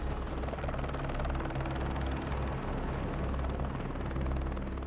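A rescue helicopter holding a partial hover on an Everest glacier slope, its rotor and engine giving a continuous loud, throbbing drone that stays steady for the whole stretch, with no voices.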